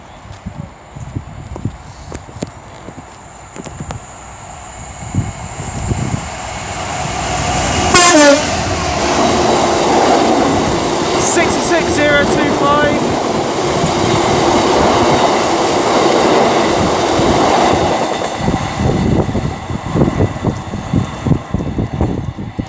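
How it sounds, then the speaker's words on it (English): A DB Class 66 freight locomotive passes at Tamworth on a Walsall-to-Dowlow working. Its two-tone horn blares loudly twice midway, over the rising rumble and clatter of wagons rolling by. "that was a nice two-tone though"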